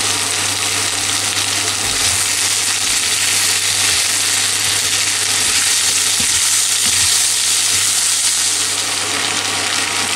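Steady, loud sizzling of zucchini and potatoes frying in a pan, a continuous crackling hiss with occasional soft stirring knocks, no voices.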